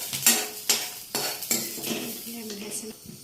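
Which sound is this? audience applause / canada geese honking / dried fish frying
dried fish frying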